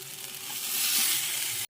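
Masala spices fry in oil in a kadhai while stuffed parwal is being prepared, giving a close, bright, steady sizzle with faint stirring scrapes for under two seconds before it cuts off abruptly.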